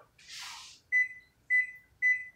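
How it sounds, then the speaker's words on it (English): A one-minute kitchen timer, set while tomatoes soak in hot water for home canning, sounds three short electronic beeps at an even pace, close and clear, after a brief rush of running water or steam. "I put these babies on a 1-minute timer"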